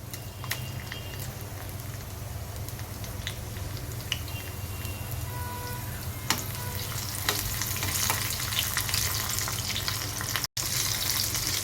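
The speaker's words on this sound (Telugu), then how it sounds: "ఆయిల్ వేడైన తర్వాత తాలింపు గింజలు, వెల్లుల్లిపాయ, ఎండుమిర్చి వేసుకోవాలి." Mustard-type tempering seeds, garlic and dried red chillies fry in hot oil for a gongura chutney, giving a steady, close sizzle with scattered pops and crackles throughout, with no talk.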